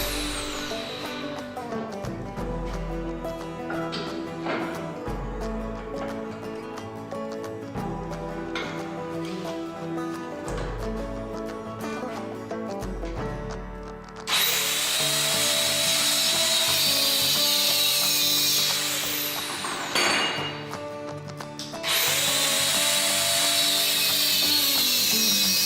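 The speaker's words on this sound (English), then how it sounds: "Now it's time to cut the 15/16 inch pipe to exact length." A power saw cuts lengths of 15/16 inch pipe, the first stretch steady with rhythmic pulsing, then a much louder, bright, harsh whine of the blade biting through the metal in two long cuts with a short pause between.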